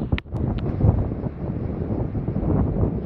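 Strong wind buffets the microphone outdoors in a steady, rough roar with a couple of sharp gust bumps near the start, loud and close throughout.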